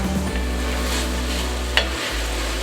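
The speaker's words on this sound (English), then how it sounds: "Stir this up, make sure it's not sticking." Hamburger Helper Three Cheese pasta being stirred in a pot, a steady scraping and bubbling sizzle running throughout with one sharp clink of the spoon against the pot near the end, close and continuous with no talk.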